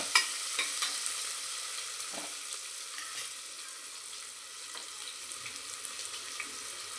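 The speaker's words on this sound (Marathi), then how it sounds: "त्यानंतर आपण यामध्ये शेंगदाणे आणि कांदा टाकून घेणार आहोत। नीट मिक्स करून घेऊया आपण इथे।" Peanuts and onion are stirred into hot oil in a pan, a quiet, even sizzle dotted with small clicks and scrapes from the spoon, with no talking.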